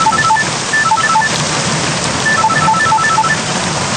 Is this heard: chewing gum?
no